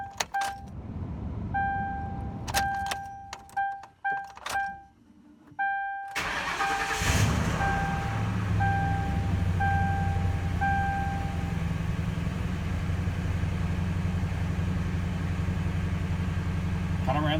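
Ford Crown Victoria engine cranking, catching and settling into a steady idle after a fuel pump replacement, with a warning chime beeping during the start and a continuous low rumble afterwards, recorded close with a voice briefly heard.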